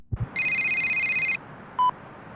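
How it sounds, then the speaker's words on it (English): A telephone rings for an incoming call: a single loud electronic ring lasting about a second, followed after a pause by a short beep, with no voices. "and then suddenly you get a phone call"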